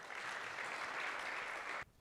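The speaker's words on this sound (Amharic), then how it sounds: "አጨብጭቡላት።" An audience applauds in an indoor church gathering, a dense steady patter of clapping that holds for nearly two seconds and then stops abruptly.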